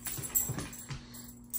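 A puppy making soft, brief whimpering and snuffling sounds close by, a few short bursts with quiet pauses between them.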